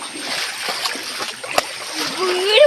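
Water splashes repeatedly in a shallow village stream as someone plays and flicks it about, with continuous watery noise and voices talking close by.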